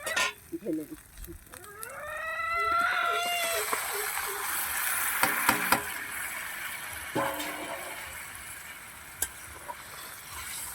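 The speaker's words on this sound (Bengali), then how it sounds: "এবার আমি যে ঝোলটা করেছিলাম এটা এবার আমি ঢেলে দিচ্ছি" Broth poured into spices frying for a fish curry with pumpkin stems sets off a loud, rushing sizzle that swells and then settles into a softer bubbling hiss, after a few brief voiced calls at the start.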